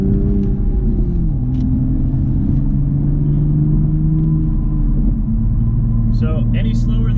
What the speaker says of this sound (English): We're on the highway. We're in 5th gear. Doing about 71 miles an hour right now.